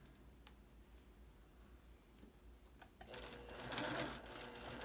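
A sewing machine stitches a fabric face cover seam, soft rapid clicking at first, then a louder steady whirring run of stitches near the end, close and quiet.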